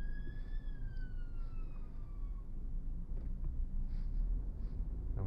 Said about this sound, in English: I'm just going to stay still, let the ambulance do his job.